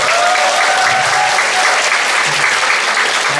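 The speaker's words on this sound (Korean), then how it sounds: "박수 한번 주십시오." Audience applause at a company presentation, a dense steady wash of many hands clapping from a sizable crowd, continuous and loud throughout with a faint tonal hum in the background.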